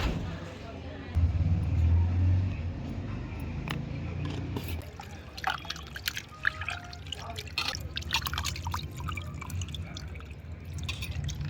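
Water splashes and drips as duck meat is rinsed by hand, a steady wet sloshing with scattered drops, close by and moderately loud, with no talking.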